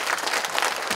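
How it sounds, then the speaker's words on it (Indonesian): An audience at a village gathering in Malang claps together, a dense burst of applause lasting about a second. "Tepuk tangan dulu."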